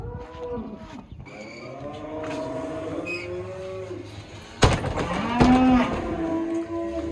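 Dairy cows at a grass-fed dairy farm barn during evening chores, mooing repeatedly: several long, drawn-out moos, some overlapping, with a louder nearby call in the second half over faint background noise.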